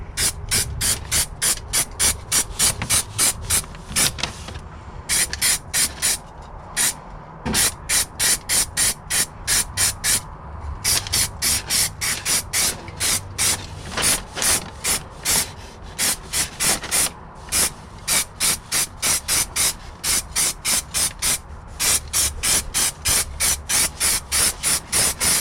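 Stone chip coating is sprayed under the inner wing of a Rover P4 in long runs of rapid, hissing bursts with a ratcheting pulse. Short pauses break the close, loud spraying, and nobody speaks.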